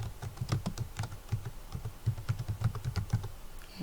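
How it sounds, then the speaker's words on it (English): Rapid typing on a computer keyboard, close and steady, with quick irregular bursts of key clicks and brief pauses. "let's type Physical Activities Directory"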